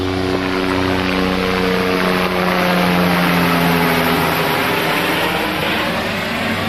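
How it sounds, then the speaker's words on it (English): A helicopter's steady engine drone and rotor hum fill the air, loud and continuous, as it passes overhead with no voices. "Here comes a helicopter with his night lights on."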